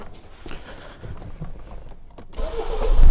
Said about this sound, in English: car is started.